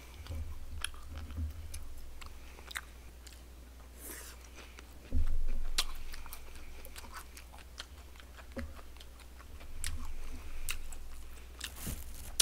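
Close, wet chewing and crisp crunching while eating barbecue jokbal and bossam wrapped in napa cabbage leaves, irregular bites and smacks with brief rustles and no talking.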